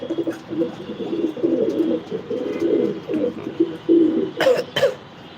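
A racing pigeon in its loft, apparently unwell, gives continuous low cooing over a busy background, with a few sharp knocks near the end.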